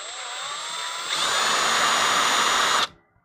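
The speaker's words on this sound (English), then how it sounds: "we gotta drill" Power drill drilling out a plastic part while assembling an LDO Micron+ 3D printer toolhead, one loud continuous whine that rises in intensity midway before stopping abruptly, close and alone.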